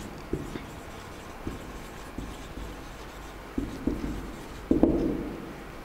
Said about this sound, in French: je vais écrire tableau de variation de f